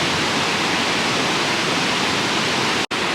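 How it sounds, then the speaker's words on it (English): Flowing water of the Lackawanna River heard from above beside an old colliery site, a steady full rushing wash with no voices, interrupted by one very brief dropout near the end. "Looking down at the Lackawanna River."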